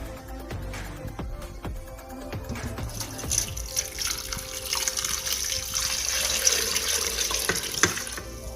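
Water runs and splashes steadily into a pressure cooker, with a few clanks and clatters early on, the pouring growing fuller and brighter toward the end.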